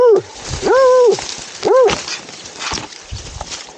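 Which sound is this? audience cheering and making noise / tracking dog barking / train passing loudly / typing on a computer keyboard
tracking dog barking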